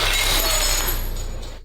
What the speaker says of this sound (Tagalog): Basag mo pala ang alak.